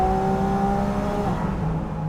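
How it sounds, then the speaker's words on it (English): A 2024 Porsche 718 Spyder RS with a flat-six engine gives a steady, moderately loud mechanical drone with a tonal whine that shifts partway through, with no voices over it. "This engine does all the talking."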